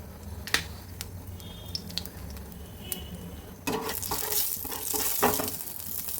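A dried red chilli and black cumin (kalo jeera) dropped into hot oil for tempering, first quiet clicks and taps, then a sudden stronger crackling sizzle for the last few seconds.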